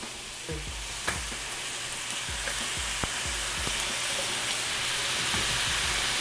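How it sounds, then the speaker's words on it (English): Onions sizzle on a hot griddle for In-N-Out style burgers, a dense, steady hiss close by with a few faint clicks and taps of a spatula scattered through it. "Buns are toasted, on to grilling some onions."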